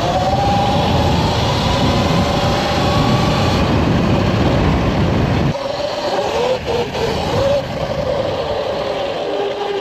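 A Surron electric motocross bike at full throttle gives a loud, steady motor whine with heavy wind and road rush, which drops away partway through as the rider eases off.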